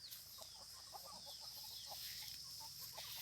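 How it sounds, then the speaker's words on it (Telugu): Native free-range chickens on a farm cluck in short, scattered bursts, fairly faint and distant against a soft background hiss. "దీంట్లో మా దగ్గర అన్ని జాతుల కోళ్ళు ఉన్నాయండి."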